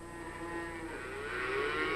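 A cow moos in a long, drawn-out low call that rises and swells louder toward the end, heard alone at moderate distance with no talking.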